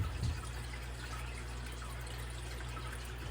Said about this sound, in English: All I gotta do is a quick water change on this